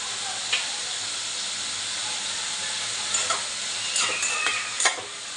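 Masala is stirred into frying onion and tomato, a constant hiss of sizzling oil with a few scraping clinks of the spoon against the pan near the end.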